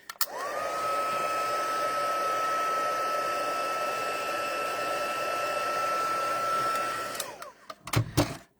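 Electric heat tool blowing hot air over stamped paper cards, a steady close whooshing whine with a high tone that starts abruptly, holds for about seven seconds, then cuts off, followed by a few handling knocks.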